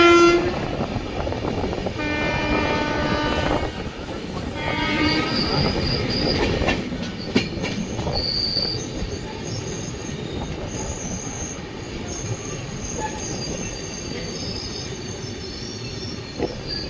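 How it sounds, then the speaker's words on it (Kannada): A passenger train rolls into Raichur station, with steady rumbling wheels and carriage noise, squealing wheels, clicking rail joints and a horn blast, loud and close throughout, no voices. "ಇವಾಗ ನಮ್ಮ ಟ್ರೈನು ರಾಯಚೂರಿಗೆ ಎಂಟ್ರ್ ಆಗ್ತಿದೆ."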